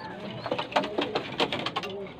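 Pigeons in a racing loft coo in soft, repeated throaty bursts close by, the murmuring calls overlapping in a steady rhythm while a person talks quietly underneath.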